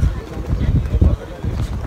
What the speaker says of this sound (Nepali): यहाँ मार्फामा पनि हावा चल्न सुरु भइसकेको छ एकदम जोरले हावा चलिरहेको छ